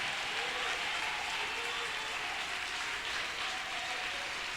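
A church congregation clapping their hands in worship, a continuous dense wash of applause from many people, steady and fairly full throughout.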